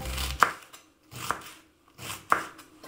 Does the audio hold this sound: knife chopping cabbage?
yes